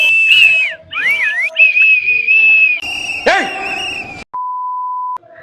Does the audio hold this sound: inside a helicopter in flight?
no